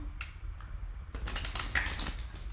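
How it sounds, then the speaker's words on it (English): Rapid, crisp clicking and riffling of tarot cards, soft at first, then a quicker burst of shuffling close by. "Let me give your tarot deck a quick shuffle here."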